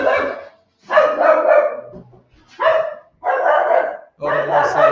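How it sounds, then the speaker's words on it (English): A dog barks in several short bursts, close and fairly loud, with a few gaps of quiet between them. "Yeah, that's the dog."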